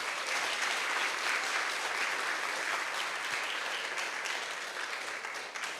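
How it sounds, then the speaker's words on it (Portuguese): Sustained applause from a large church crowd, dense and steady clapping that continues throughout and eases slightly toward the end. "Aplauda o Senhor Jesus."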